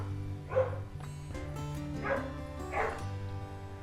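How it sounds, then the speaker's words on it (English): Faint puppies yipping and whimpering indoors a few times, somewhat muffled and distant, over a low steady hum. "I don't know if you can hear the puppies, but they're inside going crazy right now."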